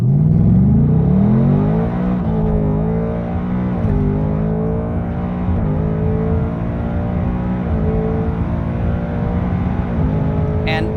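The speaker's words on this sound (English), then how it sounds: "And the Coyote, it has this sort of high-pitched, almost reedy sound to my ear." Ford Coyote V8 revving, a loud near climb in pitch at the start, then a sustained high, reedy drone with repeated small rises and dips in revs.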